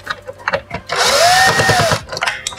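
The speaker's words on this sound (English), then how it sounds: "Alright, looks like with that, I can unscrew this right here." A power screwdriver unscrewing a screw on a Gotway MSuper Pro electric unicycle during a teardown, with one close whirring burst of about a second set between quieter clicks and handling noises.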